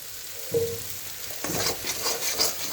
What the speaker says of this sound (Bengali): মশলাটা হালকা ভেজে নিই, অল্প তেল দিয়ে দিচ্ছি